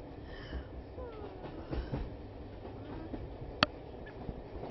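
Train carriage rolling along the rails in a video game, a quiet, steady rumble with soft clacks and one sharp metallic knock near the end.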